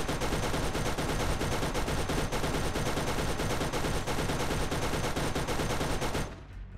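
Turret gunfire in the Borderlands video game from a Mucifer Mark V turret: a loud, sustained stream of rapid automatic shots that pounds on without pause for several seconds, then cuts off abruptly near the end.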